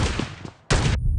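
Shotgun blasts in the mobile game PUBG Mobile during a team deathmatch, two loud, close booming shots about half a second apart, each with a short broad burst of noise.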